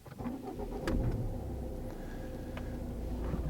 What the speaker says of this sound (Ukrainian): вам необхідно завести автомобіль, що я зараз і зроблю.